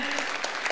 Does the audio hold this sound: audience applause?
yes